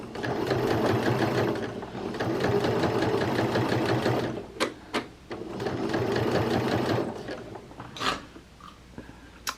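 A home sewing machine stitches seams in two long, steady bursts of rapid mechanical whirring, close and loud, then stops, leaving brief clicks and handling noises.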